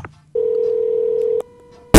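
Telephone keypad tones for a prank call: a short beep, then one long steady dialing tone, a faint fainter tone, and an abrupt loud burst at the end.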